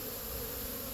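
Honeybees buzz around a hive on a pollen-heavy day, a faint, continuous droning hum with no other sounds.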